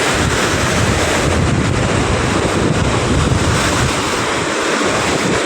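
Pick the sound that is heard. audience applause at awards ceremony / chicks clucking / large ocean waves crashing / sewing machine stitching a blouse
large ocean waves crashing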